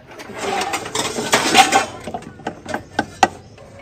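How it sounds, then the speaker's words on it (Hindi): Metal pots and dishes clattering in an outdoor village kitchen while chicken karahi is being cooked, a loud busy jumble of clanks and knocks that thins into a few sharp separate bangs toward the end, close by with no talking. "बर्तन तोड़ रही हो"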